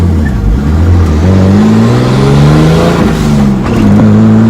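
Nissan 240SX at operating temperature being driven around, its engine note rising and falling steadily through gears, loud and close with no talking.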